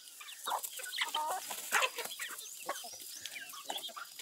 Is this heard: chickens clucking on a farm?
yes